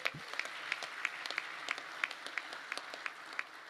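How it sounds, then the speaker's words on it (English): Audience applause at a political event honouring the venue, rapid sparse claps with distinct sharp hits spaced through a faint wash of clapping, fairly distant and quiet. "How about a round of applause for"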